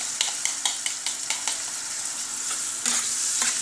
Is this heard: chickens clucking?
no